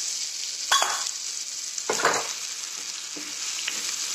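A drumstick (shevga) vegetable curry frying in a pan, with a steady close sizzle and a few louder stirring scrapes breaking through at intervals, no voices.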